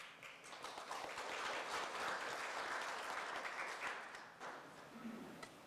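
Applause from a forum audience welcoming a blockchain committee chair to the stage: a full, sustained round of clapping from many hands that swells, holds evenly and then tapers off.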